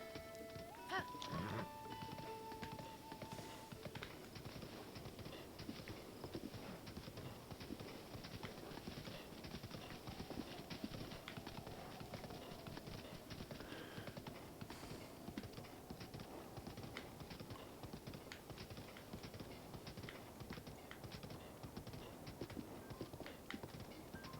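Quick rhythmic hoofbeats of a galloping horse in the video game Breath of the Wild run steadily throughout at low volume, with a brief whinny near the start.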